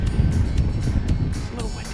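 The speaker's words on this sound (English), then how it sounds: "It's a little windy." Steady wind blows across open country during a Texas aoudad hunt, a constant low rumble with gusty buffeting against the microphone throughout.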